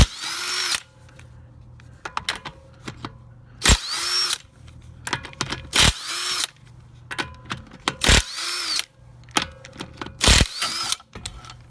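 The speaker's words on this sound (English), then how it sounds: "I always loosen the bolts, not loose, break them loose before I lift the tire off the ground" An impact-style power tool breaks loose the front wheel bolts on a 2014 VW Passat, several loud whirring and rattling bursts separated by short pauses and clanks.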